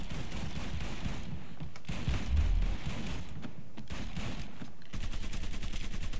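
Gunfire in the video game Mafia III, a steady stream of muffled shots rolling on for several seconds, with a heavier thump near the middle and quicker bursts toward the end.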